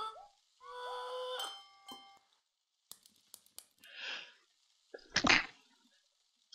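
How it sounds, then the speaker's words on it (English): A single loud sneeze in the Botanicula game follows quirky whistling tones and scattered light clicks, with a soft breathy sound just before it. "that was a sneeze"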